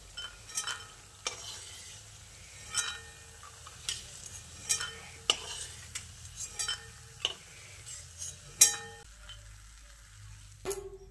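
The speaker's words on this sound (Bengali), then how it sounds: "ডালের বড়ি দেওয়ার পরপরই অনবরত নেড়ে চেড়ে যেতে হবে, তা না হলে বড়িগুলোতে তেল টেনে নেবে বেশি।" Lentil dumplings (bori) fry in hot oil under a soft, steady sizzle while a metal spoon scrapes and clinks against the pan in repeated irregular strokes, ending with one sharper clink.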